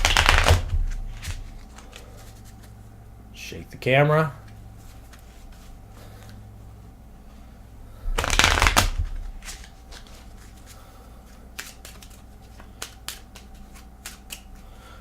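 Cards are riffled in two quick bursts, one near the start and a louder one later, with brief talk in between and light tapping afterward.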